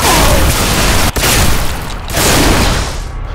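A shotgun fires in the shooter video game Bodycount, heard as loud, dense booming blasts in a continuous wall of heavy gunfire with barely a pause.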